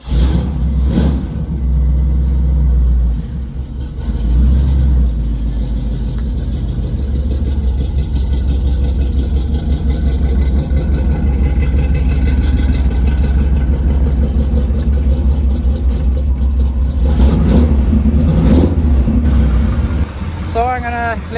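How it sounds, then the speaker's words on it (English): A Chevelle's engine runs loud and steady, with revving swells as the car is driven out after heater core and rust repairs, while someone talks over it. "I'm gonna drive it out and see if we have any problems"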